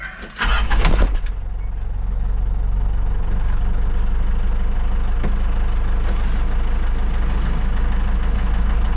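A Perentie 6x6 military truck's diesel engine cranks briefly, then settles into a steady, loud idle with a deep rumble that holds through the rest of the clip.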